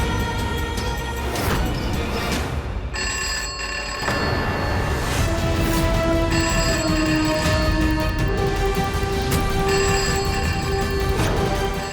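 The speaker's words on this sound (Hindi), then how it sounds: "पता नहीं सुबह से कौन फोन कर कर परेशान कर रहा है।" A telephone bell rings loudly and steadily in a dramatic Hindi TV scene, repeated electronic ring tones running for the full length with a layered music bed and no talking.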